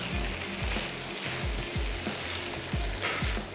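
Spicy Mexican-style rice is stirred in a pan with a flat spoon, giving a soft sizzle with repeated low scraping strokes in a steady rhythm, no voices.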